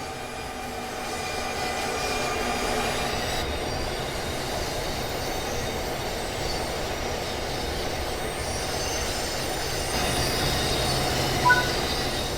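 An NJ Transit Arrow III electric commuter train in a train simulator game rolls steadily on the Morristown Line with a low motor hum, rumbling wheels and faint squeals, sustained throughout at moderate loudness.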